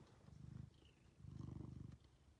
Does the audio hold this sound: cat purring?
yes